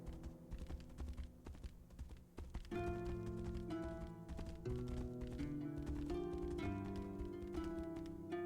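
Horse hooves clip-clopping in the video game Tainted Grail: The Fall of Avalon, rhythmic light taps running under a layer of sustained musical tones, moderately quiet.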